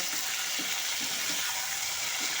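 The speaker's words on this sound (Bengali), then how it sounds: "আলু ফুলকপিটাকে এখন তেলের সাথে ভালো মতো করে মিশিয়ে নিয়ে ভাজা ভাজা করে নেব" Potato and cauliflower frying in oil give a steady, close sizzle with faint, regular scraping knocks as the pieces are turned, and no one speaks.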